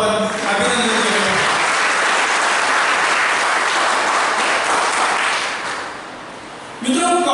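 An audience in a college hall claps steadily and loudly for several seconds, and the clapping then thins out and fades. A voice returns at the very end.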